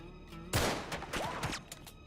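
Burst of gunfire in the video game Uncharted 3 at the chateau, a sharp loud volley followed by several more rapid shots over about a second and a half, with no talking.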